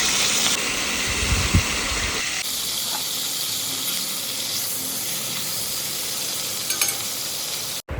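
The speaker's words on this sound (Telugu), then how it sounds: "అదిగో ఇప్పుడు కొంచెం సేపు నూనెలో వేగిద్దాం." Stuffed brinjal fries in hot oil in a pan with a steady, loud sizzle and hiss that goes on throughout, with a brief stirring clatter near the start.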